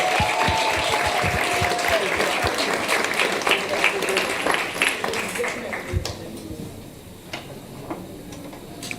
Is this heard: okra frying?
no